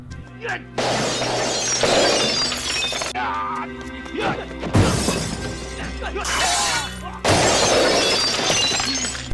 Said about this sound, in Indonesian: Johnny pun jadi menghancurkan Pocilam dan menyerang guru Tak